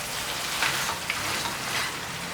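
Beef stir-fried with sauces in a Cantonese coconut curry over medium heat, a steady close hiss and sizzle with faint scraping, continuous and without talk.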